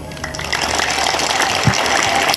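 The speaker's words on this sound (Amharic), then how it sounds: "አጨብጭቡልኝ።" Congregation in an Ethiopian Orthodox church clapping together in steady, dense, loud applause that fills the room.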